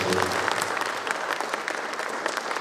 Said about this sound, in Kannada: ಅವರೆಲ್ಲರಿಗೂ ನಿಮ್ಮ ಹೃದಯ ಸ್ಪರ್ಶಿ ಅಭಿನಂದನೆಗಳನ್ನು ಚಪ್ಪಾಳೆಗಳನ್ನು ಕೊಡಬೇಕು